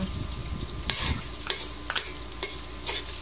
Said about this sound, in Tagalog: magigisa po tayo ng luya, sibuyas at bawang